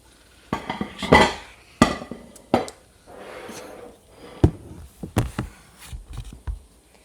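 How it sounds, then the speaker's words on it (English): Cutlery scraping and clinking against a plate while steak is cut up, several sharp clacks and scrapes with short pauses between them, close and fairly loud, with no talking. "it's a good time to start cutting up the steak"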